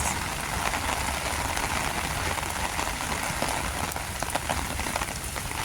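Steady rain pattering on a surface, a dense even hiss with scattered drips, continuous throughout and fairly close.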